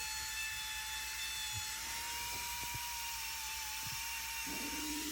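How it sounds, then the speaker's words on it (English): A chainsaw fitted with a flame-tip carving bar cuts nose and eyebrow details into a wooden welcome bear, its high engine whine held steady throughout and loud and close, with short bursts of cutting. "using the nose of the flame bit, go ahead, cut in your nose on your bear."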